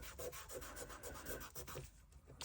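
A rub-on sticker is rubbed firmly onto a Christmas coaster, giving a close, scratchy friction sound in quick repeated strokes that slow and fade toward the end, with no talking.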